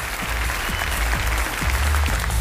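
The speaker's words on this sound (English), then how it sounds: "let's give her a big round of applause as she makes her way up on the stage" A theatre crowd at the 2009 World Magic Awards applauds loudly and continuously, many hands clapping over a low rumble of the room.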